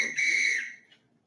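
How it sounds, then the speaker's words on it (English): A single short whistle blast rings out, clear and steady for about half a second before fading, played as a sample sound in a school listening test. "Whistle."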